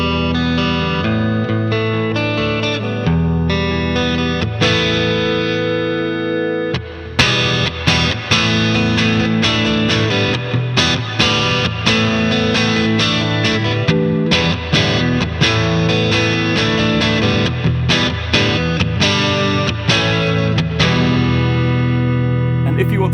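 Distorted electric guitar played through a homemade speaker cabinet built from a coffee table and loaded with a Celestion speaker, sounding loud and close, with sustained chords followed by fast choppy riffing and no talk over it.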